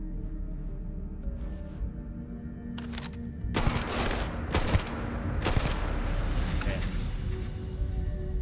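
Gunfire in Starfield: bursts of rapid shots come in clusters over a rumbling low background, with a voice talking during the firing.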